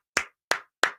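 Three separate sharp claps spaced evenly in a quiet room, a short deliberate burst of applause on a sports talk show.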